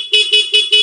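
Stock horn of a Raider 150 Fi motorcycle sounding four short, evenly spaced honks, close and loud, with no talk over it.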